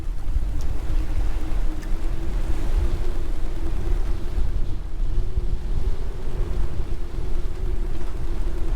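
Strong wind buffets a sailboat at sea while waves wash and slap against the hull in a constant, loud roar with heavy wind noise on the microphone.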